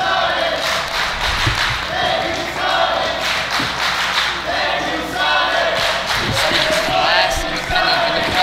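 Indie wrestling crowd at a farewell match cheering and clapping for Sonny Kiss, a loud continuous roar with rhythmic chant-like swells and scattered thuds.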